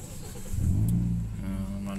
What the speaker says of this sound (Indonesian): Kita bisa hidupkan mesin